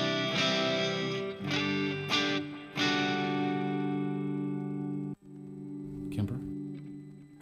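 Electric guitar played through a Line 6 HX Stomp with reverb and delay, sustained distorted chords ringing out several times, then a brief break and a few more struck notes.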